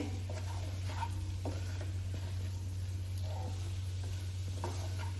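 Green chilies and amla for pickle cook in a pan, a faint, steady sizzle with occasional soft stirring scrapes over a low constant hum, no one speaking.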